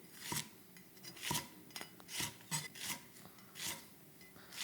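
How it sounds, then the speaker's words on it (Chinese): A knife slices garlic diagonally on a cutting board in a quiet kitchen, giving a series of soft, crisp chopping taps at an uneven, unhurried rhythm, close by with no talking. "首先是这个大蒜我们斜刀切。"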